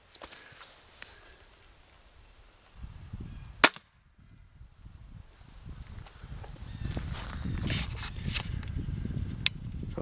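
A homemade crossbow is fired at a target outdoors, giving one sharp, loud snap a few seconds in, amid faint rustling and breezy outdoor noise.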